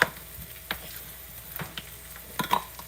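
Basil and garlic sizzle softly in a hot pan while a utensil stirs them, giving a few scraping clicks over a steady low frying hiss at close range.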